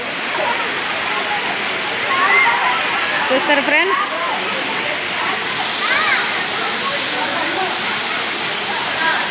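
Sarugudu waterfall pours from a height in a loud, unbroken roaring rush, with a person speaking briefly over the noise.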